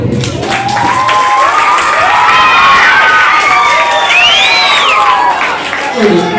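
Students at a school debate competition clap and cheer loudly as a crowd, with children shouting throughout, in a dense, sustained burst that fades slightly near the end.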